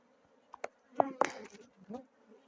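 Bees at a hive under inspection in Yamoussoukro, with short close buzzing bursts that rise and fade irregularly and no talk.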